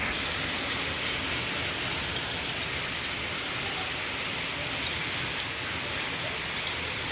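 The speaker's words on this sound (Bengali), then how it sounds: "প্রচণ্ড বৃষ্টির শব্দ হচ্ছে" Heavy rain pours onto a home balcony in a steady, dense roar that fills the whole clip without a break, loud and close.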